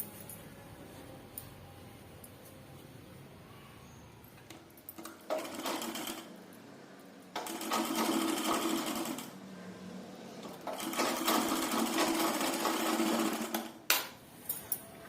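A sewing machine stitching folded fabric in long steady whirring runs, broken by short pauses and quieter handling sounds, close and clear with no talk.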